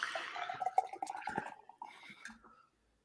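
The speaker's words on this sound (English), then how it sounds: "in this glass I'm going to pour in something I've mixed myself" A home-mixed drink poured into a glass, a close, gurgling liquid stream that trickles and fades out, with no talking.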